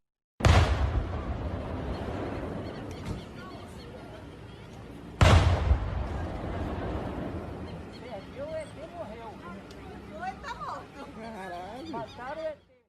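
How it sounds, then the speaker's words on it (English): Two sharp, loud booms several seconds apart outside a munitions factory in Magé, Brazil, in the early morning, each followed by a rumbling decay, with distant voices and background chatter afterward. "the factory in the early morning would be filled with sounds of explosions or even maybe gunshots"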